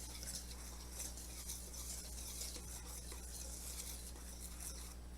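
A whisk stirs dry all-purpose flour, baking powder and salt in a bowl, giving a soft, steady scraping and rustling that runs continuously at low level with no talking.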